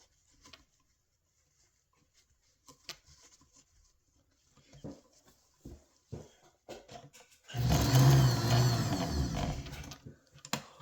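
A sewing machine stitches the elastic opening of a scrunchie in one sustained, buzzing run lasting a few seconds, preceded by faint scattered handling taps and clicks.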